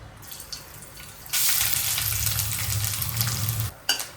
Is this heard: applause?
no